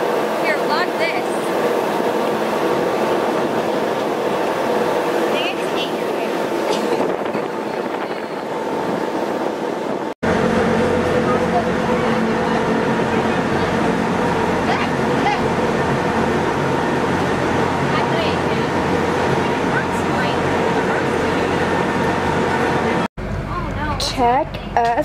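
Steady low rumble and hum inside a moving train carriage in Italy or Switzerland, with a continuous droning background and voices talking over it.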